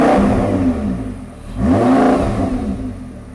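An Audi R8 engine, shared with the Lamborghini Gallardo, revs hard twice, each burst climbing sharply and falling back, loud and close with no talk over it.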